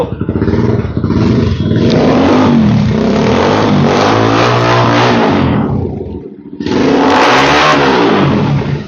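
A Benyco Cruiser motorcycle engine fires up and revs hard, loud and close, with a rising roar, a brief dip and cut near the end, then another strong rev.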